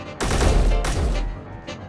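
Rifle fire in the game Space Engineers, with two heavy booming shots and a fainter third, each loud with a deep low-end thump and a decaying rumble.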